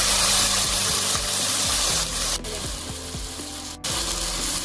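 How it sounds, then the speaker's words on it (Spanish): A smoked pork chop sears in a hot pan, giving a loud, steady sizzle and crackle with occasional scraping as it is moved and turned from side to side. "Luego vamos a sellar la chuleta ahumada. Vamos a sellar de lado a lado."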